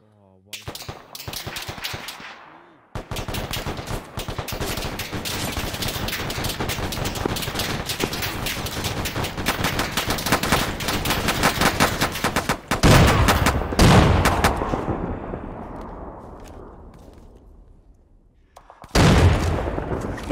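Gunfire in the ARMA 3 military video game during a Syria deployment: sustained loud bursts of automatic weapon fire with rapid cracks, a pause, then another burst and a closing volley, with voices intermittently audible.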